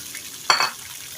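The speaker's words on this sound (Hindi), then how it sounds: "इसको 6 से 7 मिनट तक इसको भुनाई करेंगे दरमियाने आग पे। चम्मच इसमें जो है चलाते रहेंगे।" Chicken and potatoes frying with onion, garlic and ginger over medium heat, with one short scrape and sizzle as a spoon stirs the pan, close and brief over a quiet background.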